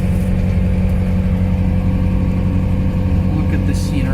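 A 1989 Land Rover Defender 110 Perentie 4x4 engine-braking down a hill, a steady loud droning engine hum with a low rumble throughout, the pitch holding even and unbroken.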